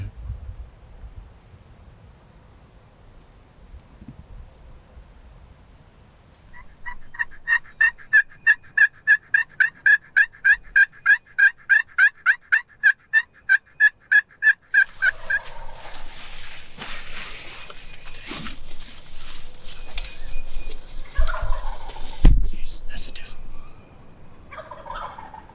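Wild turkeys gobbling on a windy Kansas morning, with a long run of rapid, evenly pulsed gobble-like notes that are loud and clear. Wind and rustling noise follow the notes.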